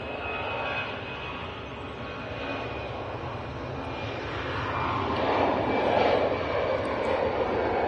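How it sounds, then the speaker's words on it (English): An EasyJet Airbus A319 jet departs Manchester Airport, a steady broadband engine roar that swells gradually toward the end as the aircraft climbs away, with no talking. "So that's an EasyJet A319 off to Lisbon."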